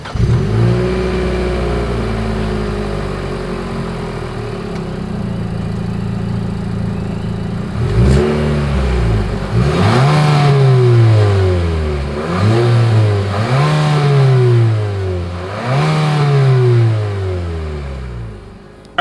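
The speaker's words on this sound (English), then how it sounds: "As always, here is that exhaust clip." A 2025 Nissan Murano engine idles steadily, then revs up in four repeated sharp bursts, each rising and falling, loud and close with a throaty exhaust roar.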